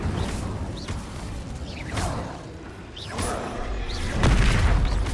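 Fire spells are cast in Hogwarts Legacy, with repeated whooshing bursts and booming impacts that swell and fade in an uneven rhythm, ending in a louder blast.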